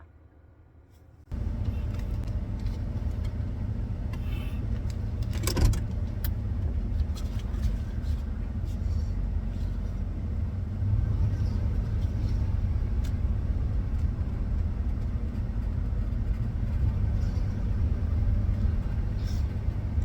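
A car starts and pulls away, then drives on with a steady, loud road rumble and engine drone after a quiet moment at the start, with a few brief knocks along the way.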